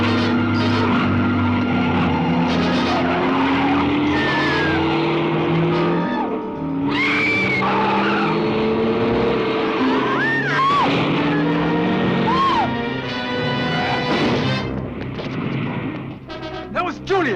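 A car skids and crashes into a man amid loud, chaotic noise, with screeching tones and heavy impacts, as people shout and talk throughout.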